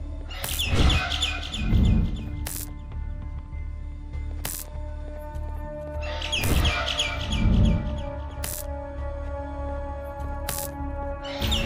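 Bird calls from the game Garten of BanBan 6 come in two repeated bursts of sharp chirps and tweets, with hard clicks in between over a low steady background hum.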